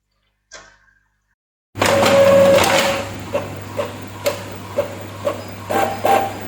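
Office printer printing a document: a short mechanical whir, then a steady motor hum with a regular series of clicking paper-feed ticks, close and clear with no talking.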